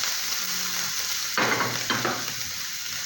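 Onions and garlic sauté in a hot pan with a continuous soft sizzle, broken by a few brief bursts of scraping as the mix is stirred, heard up close with no talking.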